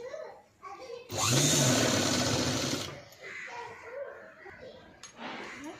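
A sewing machine stitching a padded blouse runs in a loud, steady burst of about two seconds. Softer machine noise and quiet voices come before and after it.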